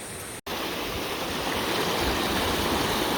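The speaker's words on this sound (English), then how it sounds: "Oh, the waterfalls." A rocky waterfall roars in a steady, loud, unbroken rush of falling water, nearby and broadband, after a brief cut near the start.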